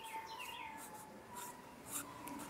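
The threaded metal probe of a 1960s Civil Defense Geiger counter is unscrewed by hand, a short steady rubbing and scraping of threads turning, close up with faint squeaks and no talk.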